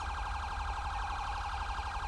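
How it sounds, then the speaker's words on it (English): A police car siren in GTA V wails steadily and loudly, its rapid warbling rising and falling without a break over a low engine rumble. "Hopefully they can shut their siren off."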